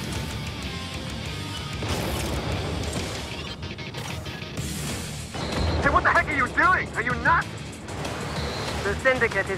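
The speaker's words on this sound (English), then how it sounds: "I'm gonna switch to homing missiles" Homing missiles launch and burst in the aerial combat game Strike Vector EX, a dense, loud run of booming blasts and crashing impacts that swell toward the end over a continuous roar of game sound.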